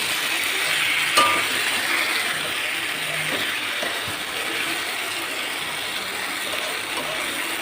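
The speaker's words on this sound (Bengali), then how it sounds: "ভালো করে নেড়ে চেড়ে অনেকক্ষণ ধরে কষতে হবে মাংসটা" Mutton curry being stirred and fried in a pan, a steady dense sizzle with faint scraping running throughout, close and fairly loud.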